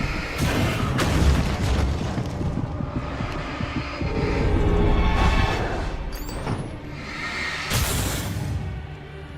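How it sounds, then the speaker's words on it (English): Flashbang explosions from the video game Alan Wake Remastered, a series of loud, booming bursts spread through the passage, each with a rumbling tail, along with other game noise and no talking. "Flashbangs."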